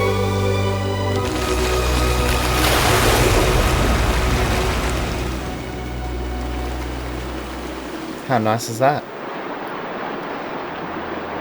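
Water flows steadily in a mine in the Disney Dreamlight Valley video game, a continuous rushing wash, with a person speaking briefly over it near the end.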